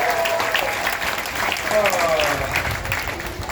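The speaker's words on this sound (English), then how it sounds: "Let's give Remy one more round of applause this time." Crowd applause at the Gatorland gator show rolls on steadily, a broad wash of clapping under faint voices and whistles from the audience.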